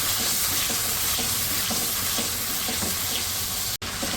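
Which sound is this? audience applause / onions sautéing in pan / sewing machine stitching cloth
onions sautéing in pan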